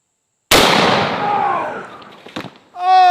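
A 4 bore rifle fires one huge, sharp blast at a ballistic shield, the boom ringing out and decaying over a second, followed by a short clatter and a voice reacting.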